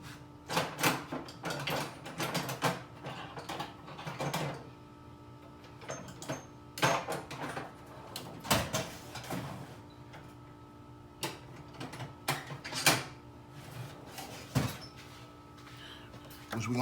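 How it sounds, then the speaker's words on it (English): A flathead screwdriver loosening metal hose clamps on a Camaro SS intake tube, with repeated close clicks, scrapes and rattling metal knocks in irregular bursts over a steady low hum, loud and near throughout. "get my flathead and take these hose clamps off"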